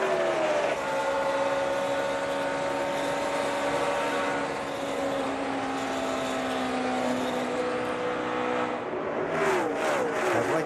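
NASCAR Nationwide Series stock cars racing at Charlotte in the 2011 Dollar General 300: a continuous loud engine roar that holds a steady pitch as the pack passes, with a sharper rising whine near the end.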